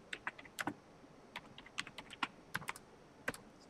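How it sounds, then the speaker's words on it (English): Light, irregular keystrokes on a computer keyboard while a WordPress widget is being set up, soft and close with short pauses between clusters of taps. "And let's type quick links."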